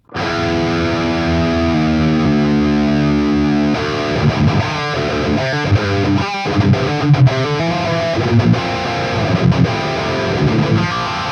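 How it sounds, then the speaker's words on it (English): A distorted electric guitar, pitch-shifted down by a transpose effect, plays sustained chords and then choppy riffing, sounding deep and thick as if tuned down, loud with no talking. "it's just like I tuned the guitar down, which is amazing"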